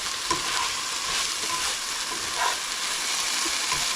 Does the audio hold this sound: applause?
no